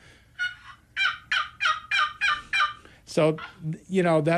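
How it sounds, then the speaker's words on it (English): A turkey box call rasps out a series of about six short, evenly spaced hen yelps, then a few louder, drawn-out notes close by. "This box call is what we call a friction call."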